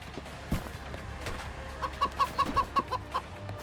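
Cartoon chickens cluck in the video game Moving Out, a quick rhythmic string of about eight clucks over soft background game noise.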